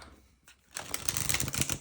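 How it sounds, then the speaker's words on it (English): A deck of tarot cards is shuffled in a quick riffle, a soft burst of rapid fluttering clicks that starts after a short quiet pause and continues close by to the end. "I'm just going to do one more shuffle."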